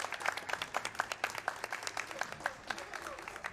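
Crowd cheering and applause from the video game Ratchet & Clank: Into The Nexus, a steady bed of dense clapping and crowd noise with rhythmic bursts throughout.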